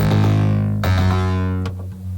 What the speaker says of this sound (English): left-right panning delays